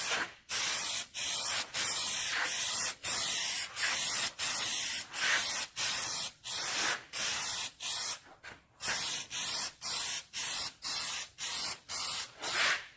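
Duplicolor Bed Armor bedliner sprays from an aerosol can onto a Ram truck bumper in repeated hissing bursts of about half a second each. The bursts come in a steady, closely miked rhythm with brief pauses between them.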